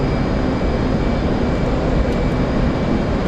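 An F/A-18 Hornet throttles up for a carrier launch in the DCS flight simulator, a loud, unbroken jet engine roar that holds steady throughout with no speech.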